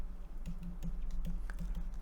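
Light computer keyboard key presses, including the F4 key, during a spreadsheet lesson: several soft, evenly spaced clicks over a low steady hum, close and quiet.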